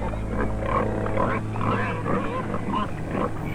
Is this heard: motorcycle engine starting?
no